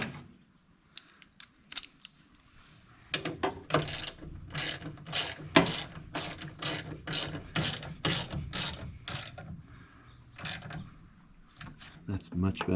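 Hand ratchet tightening a bolt on the engine of a 1981 VW Vanagon: a few isolated clicks, then quick bursts of close, dry pawl clicking in repeated strokes with brief pauses between them.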